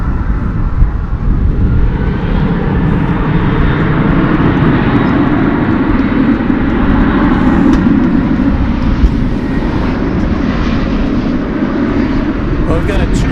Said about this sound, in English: Got this one going out. Got this Denver flight coming in.